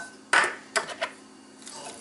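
Diced red onion and jalapeno being stirred together in a bowl, with a few distinct utensil clinks and scrapes against the dish at close range and quiet pauses in between.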